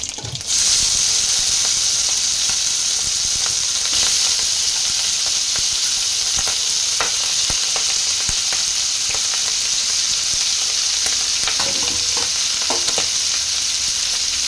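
Marinated squid fries in hot oil with cumin seeds and curry leaves, a loud continuous sizzle with soft crackles and occasional stirring clicks.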